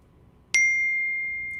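A single clear, bell-like ding from a phone's text message notification rings out sharply and fades slowly over a soft background hiss.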